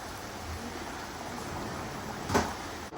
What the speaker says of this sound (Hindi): क्या बारिश है यार,